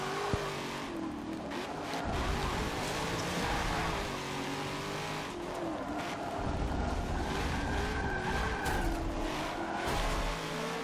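A Corvette C7 in Forza Motorsport 7 loses traction on a track: a continuous engine drone wavers and rises with revs, while tire squeal and scrubbing noise run underneath close and steady throughout.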